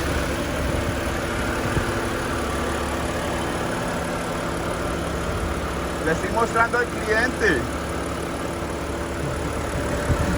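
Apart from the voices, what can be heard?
car engine idling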